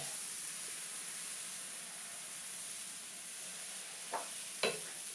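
Green crêpe batter cooks in a frying pan with a steady, quiet sizzle, broken near the end by a couple of brief scraping touches from a utensil.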